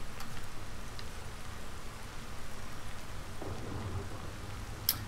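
Steady rainfall in the survival video game Ancestors: an even, moderately quiet hiss of rain on surfaces throughout, with no other sounds standing out.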